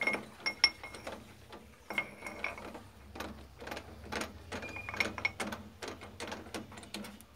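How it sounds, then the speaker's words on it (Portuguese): Metallic clinks, clacks and ratcheting as a workpiece is fitted into a three-jaw lathe chuck for facing on a homemade motorcycle build, close and intermittent with no talking. "colocar essa peça aqui no torno pra nós usinar"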